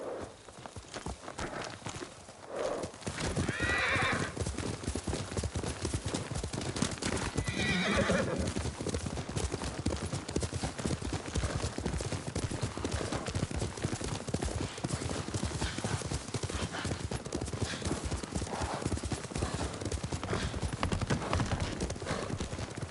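Horse hooves clip-clop in a steady walking rhythm throughout while riding in Ghost of Tsushima, with occasional horse whinnies and snorts in the foreground.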